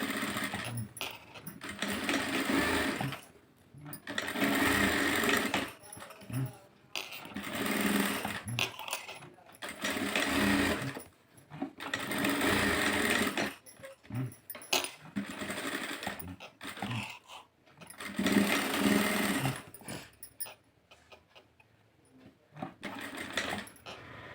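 A sewing machine stitches a blouse lining in repeated runs, each a close, rapid whirring burst separated by short pauses, faint against the quiet room.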